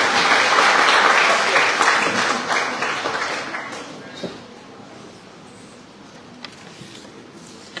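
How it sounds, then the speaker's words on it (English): Audience applause at a World Entrepreneurs' Day celebration at Manipur University, a dense crowd clapping loudly before thinning and fading into scattered claps over several seconds. "Please give her a big round of applause."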